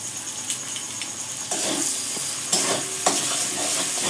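Ginger-garlic spice paste with a little sugar fries in a pan for a potato and soybean curry, a loud close sizzle punctuated by several sharp stirring scrapes, the hiss swelling midway.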